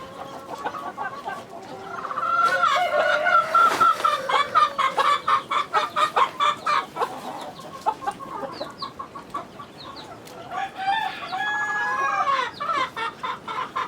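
Chickens cluck steadily in a coop with repeated short calls, while a rooster-like crowing phrase rises around the middle and more fowl calls chatter near the end, all close and fairly loud.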